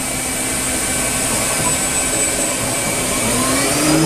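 Spindle of a Star SR20RIII CNC Swiss lathe speeding up from 1,000 to 10,000 RPM, heard close, a loud steady whine with tones slowly rising in pitch.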